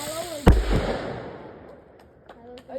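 A single loud firework blast bursts close by and rolls into a fading crackle and rumble, followed by a few faint distant pops.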